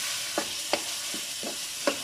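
Chopped tomatoes fry for masala macaroni with a soft, constant sizzle, broken by several scraping stirs of a spoon against the pan at uneven intervals.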